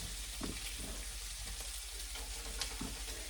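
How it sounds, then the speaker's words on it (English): Zucchini hits a pan of translucent onions frying in butter, giving a soft, steady sizzle and crackle with faint stirring scrapes, quiet and unbroken by talk. "once your onions become translucent, which they are, time to add the zucchini."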